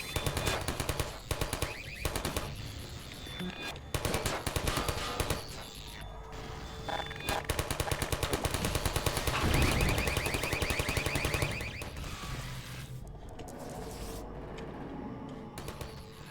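Turret in Half-Life 2 firing rapid, rattling bursts of automatic gunfire, loud and near, with brief gaps between volleys and a blaring alarm-like tone running through the middle.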